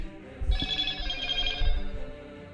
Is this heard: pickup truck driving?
no